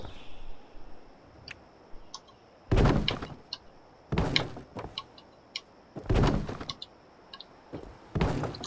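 Doors and walls being placed while building a tower in Fallout 76: a series of loud, broadband building thuds and whooshes, about five heavy impacts spaced a second or two apart, interleaved with small clicks and ticks.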